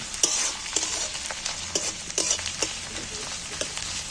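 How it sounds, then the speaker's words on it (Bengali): Garlic and ginger paste fries with onion in a pan for an egg and masoor dal dish, making a light, close sizzle with repeated stirring scrapes at an irregular rhythm. "এইটাকে একটু আলাদা করে আমি এই পেঁয়াজের সাথে একটু ভেজে নেব"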